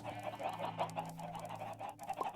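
Chickens in a video game cluck in a busy, overlapping chatter, quick repeated clucks running continuously over a low sustained background tone.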